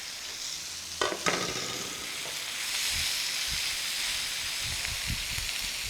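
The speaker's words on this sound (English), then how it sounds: "I am going to add the onions, garlic, curry leaves also." Onions, garlic and curry leaves frying in a pan, giving a steady, bright sizzling hiss close by, with a couple of brief knocks of a utensil near the start and low stirring bumps later.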